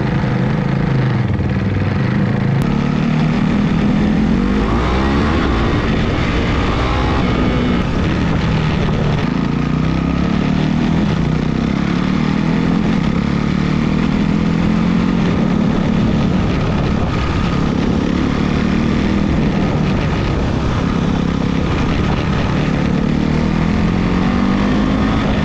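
A motorcycle engine with an aftermarket air filter and exhaust drones loud and steady while riding, the pitch sweeping up and dropping back several times as gears are shifted, with wind rush throughout.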